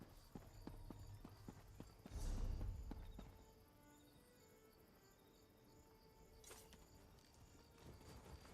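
Horse hooves clip-clop in Elder Scrolls Online's High Isle, a steady rhythmic patter over a bed of chirping crickets and insects, with a brief louder swell partway through.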